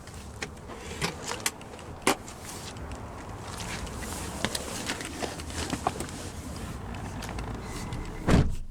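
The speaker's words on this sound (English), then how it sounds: "You can also fold down the seat." The third-row seat of a 2024 Ford Explorer ST-Line folding down: scattered mechanical clicks and clunks over a faint motor whir, ending in a louder close thud.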